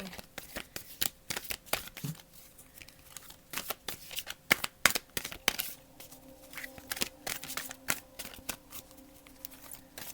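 Tarot cards are shuffled by hand in quick, irregular bursts of close riffling and flapping, with brief pauses between shuffles.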